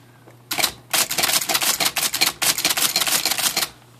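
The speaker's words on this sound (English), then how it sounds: "some noises and a little bit of noise coming off the operational shaft here" The mechanism of an IBM Selectric typewriter under repair runs for about three seconds, a rapid, loud, close-up clatter of fast mechanical strikes, with brief quiet before and after.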